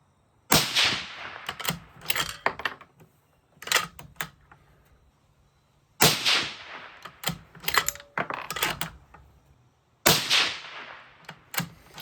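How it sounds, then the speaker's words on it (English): Three sharp 6.5 Grendel rifle shots firing 120-grain Speer Gold Dot loads outdoors in a light breeze, evenly spaced about four to five seconds apart, each loud crack followed by a brief echoing tail and small handling noises. "so we will just go ahead and shoot these here"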